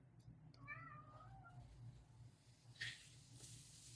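A house cat gives a single clear meow, faint and nearby in a quiet room, followed by a brief soft rustle.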